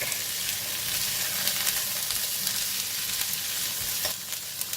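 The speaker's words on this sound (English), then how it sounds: "and then we're going to pour in the chickpeas." Chickpeas hit a hot oiled pan and are stir fried, giving a constant loud sizzle with scraping and rustling as they are stirred, close and continuous with no talking.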